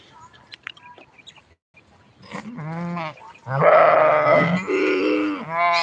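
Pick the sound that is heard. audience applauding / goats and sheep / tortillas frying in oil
goats and sheep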